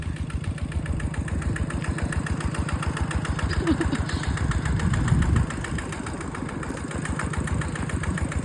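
Engine-driven water pump running steadily for watering a vegetable plot, a continuous close, loud chugging drone with a fast regular beat and no talk over it.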